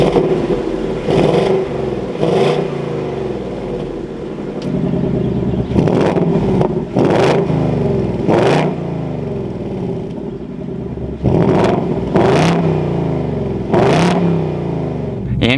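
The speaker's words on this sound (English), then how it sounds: "listen to that V8." A 2023 Ford Mustang GT coupe's V8 with manual gearbox barks to life and revs repeatedly, loud close bursts rising and falling over a rumbling idle.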